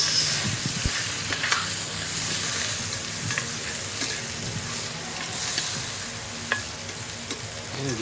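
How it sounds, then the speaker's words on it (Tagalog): Garlic and onion sautéing in a pan for tuna adobo, a loud, constant hissing sizzle with occasional stirring clatter up close and no speech. "Gisa lang natin bawang,"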